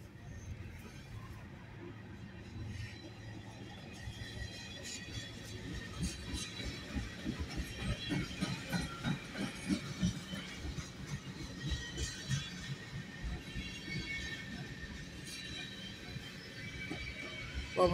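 A Canadian National unit tank train pulled by two engines rolls past at moderate distance in McKeesport, its wheels clacking in a steady rhythm that grows louder midway, under a low rumble.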